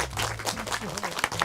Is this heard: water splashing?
no